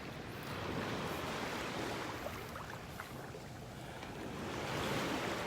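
Gulf surf at a North Naples, Florida beach washes and swirls around someone wading out from shore, a steady close rush of water with some wind buffeting the microphone and no voices.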